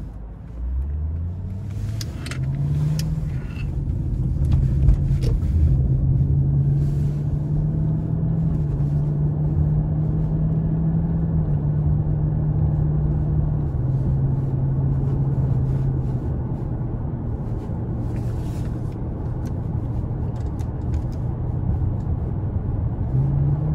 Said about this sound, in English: we take this 2012 Lexus LS 460 all-wheel drive out on the road for a quick test drive